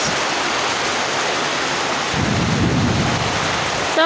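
Heavy, steady rain pours during Durga Puja pandal electrical work, and a deep rumble of thunder swells in about halfway through, close and loud.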